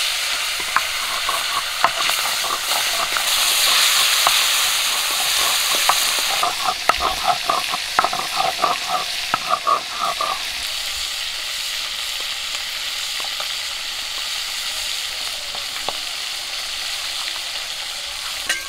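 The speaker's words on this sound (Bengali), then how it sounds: "মাছগুলো ভাজা হয়ে গেছে, তুলে নেব।" Tilapia fish sizzles loudly in hot oil, a steady crackling hiss broken by scraping and stirring clinks, nearby and continuous.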